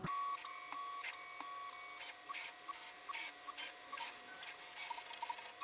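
A 22 IDEX v2 3D printer homing its axes, giving off a steady whine of stepper motors broken by a run of short electronic beeps and chirps, close and moderately loud, with no voices.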